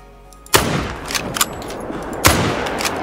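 A .303 rifle fires at a whitetail deer from about 158 meters in Call of the Wild: a loud, close sharp report with a long rumbling tail, then a second crack and its echo roll about two seconds later.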